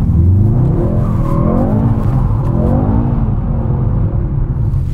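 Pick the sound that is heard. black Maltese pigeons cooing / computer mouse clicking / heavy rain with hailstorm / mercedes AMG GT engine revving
mercedes AMG GT engine revving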